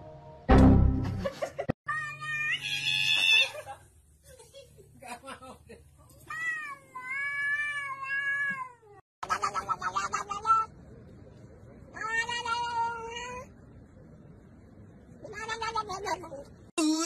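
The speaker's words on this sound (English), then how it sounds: "Kiss your cat and see how they react." A pet cat meows after being kissed, giving several drawn-out, whiny meows in separate bursts with quiet gaps between them, close to the microphone, and a sharp noise at the start.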